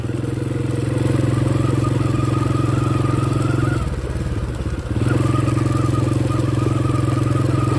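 A motorcycle rides along a slippery, rain-soaked road, its engine droning loud and steady throughout, dipping briefly around the middle before picking back up, with no speech heard.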